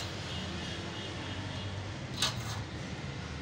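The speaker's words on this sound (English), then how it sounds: "like I told you this is the generator I'm running" A 2.5 kilowatt generator running on LPG or petrol, a steady, loud engine drone that holds constant throughout with a brief small bump partway through.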